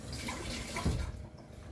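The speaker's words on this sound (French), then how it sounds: "Je vais rincer mon couteau." A kitchen knife is rinsed under a running tap, giving a brief, fairly quiet stream of flowing water with a slight splash near the end.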